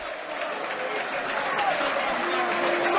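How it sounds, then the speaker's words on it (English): A football crowd at full time at the Den, Millwall's ground, mixing jeers and scattered clapping in a steady, fairly distant roar with some voices rising above it. "A mixture of abuse for the players and claps."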